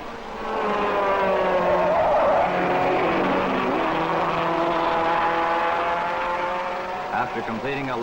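Classic race cars lap the Monaco Grand Prix street circuit, a sustained loud engine roar with pitch sweeps as cars pass and shift, heard under a continuous narrating voice.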